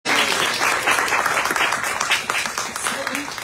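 Audience applause at the end of a publishing panel discussion, a dense burst of many hands clapping that starts abruptly, stays loud and steady, then thins slightly toward the end.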